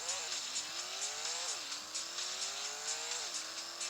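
A Bugatti in the Traffic Racer video game, its synthetic engine note climbing through repeated gear shifts in a steady, looping rhythm with no talk.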